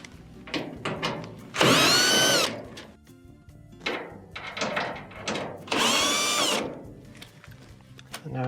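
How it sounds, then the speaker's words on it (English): Cordless power driver fitted with a T20 Torx bit backing two screws out of the top of a Whirlpool dryer panel, two loud whirring bursts close up, separated by clicks, handling noise and short ratchety pulses. "you're going to need a T20 Torx bit to remove the 2 screws at the top"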